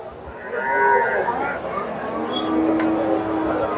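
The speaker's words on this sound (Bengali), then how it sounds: "এই যে ফ্রিজিয়ান জাতের গাভী সুন্দর একটা গাভী" A Friesian cow at a crowded cattle market gives a loud, drawn-out moo, with background chatter and market noise underneath.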